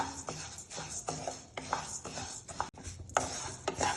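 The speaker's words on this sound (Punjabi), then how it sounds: "ਕੜਾਈ ਦੇ ਵਿੱਚ ਆਪਾਂ ਇੱਕ ਕੱਪ ਮੂੰਗੀ ਪਾ ਦਾਂਗੇ ਤੇ ਗੈਸ ਦੀ ਫਲੇਮ ਨੂੰ ਘੱਟ ਰੱਖ ਕੇ ਲਗਾਤਾਰ ਹਿਲਾਉਂਦੇ ਹੋਏ ਇਹਨੂੰ ਆਪਾਂ ਭੁੰਨ ਲਵਾਂਗੇ" A cup of moong dal is roasted over a low gas flame in a kadai while a spatula stirs it nonstop, giving soft, close scraping and gritty rustling strokes in a loose rhythm with no talk.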